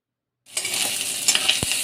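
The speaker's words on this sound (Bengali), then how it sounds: "চিংড়ি মাছটাও ভেজে নিই" Prawns fry in hot oil, a steady close sizzle that starts abruptly after a moment of silence, with a few light metallic clinks and a spatula scrape mixed in; no one speaks.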